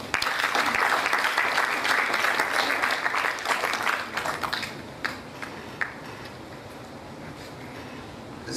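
Medical college students applauding for their parents at an event: a full room of clapping, loud and dense for about four seconds, then thinning into scattered claps and fading to quiet room tone.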